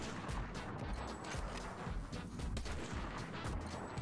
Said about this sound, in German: Hier, da sind Schüsse.